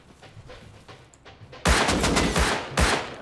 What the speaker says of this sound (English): Why are they shooting me?